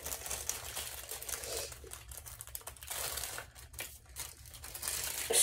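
Packaging crinkles and rustles in irregular bursts of crackling while a phone case is unboxed, close to the microphone and with no talking.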